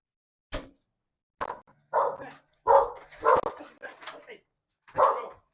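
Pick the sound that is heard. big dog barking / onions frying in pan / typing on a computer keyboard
big dog barking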